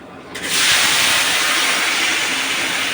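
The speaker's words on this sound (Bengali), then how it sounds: "এই যে ফোড়ন দিচ্ছে।" Spices hit hot oil while being tempered for a jackfruit and shrimp curry with potatoes, bursting into a loud, steady sizzling hiss that starts abruptly and continues close up.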